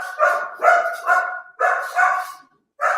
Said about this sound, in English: I'm going to mute myself because my dog is going crazy.